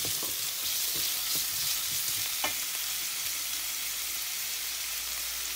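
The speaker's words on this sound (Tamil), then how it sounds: "இப்போ இந்த வெங்காயம் ஒரு 2 மினிட்ஸ் வதங்கட்டும்" Onions with a pinch of salt sauté in a hot pan for celery poriyal, a steady broadband sizzle running throughout with a few clicks of stirring, close and moderately loud with no voices.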